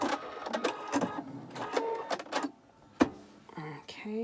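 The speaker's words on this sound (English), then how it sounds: "Sew straight up that seam" A sewing machine whirs in short bursts while stitching a seam on a fabric face mask, close and fairly quiet, with brief stops between runs and a voice talking over it.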